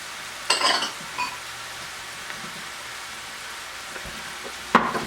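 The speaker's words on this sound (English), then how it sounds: "And we're just going to stir this up." Ketchup is stirred in a frying pan over a low, soft sizzle, with a few brief scraping clatters of the utensil, one near the start and one at the end.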